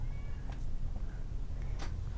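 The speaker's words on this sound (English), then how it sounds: "Just purring away." Cat purrs while being groomed, a close, soft, continuous low rumble with a few faint brushing sounds, no voices.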